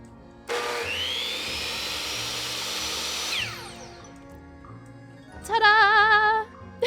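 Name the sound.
sawing an assistant in half in Minecraft, from a video game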